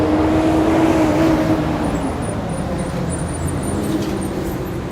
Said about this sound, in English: had to let that truck pass. It was loud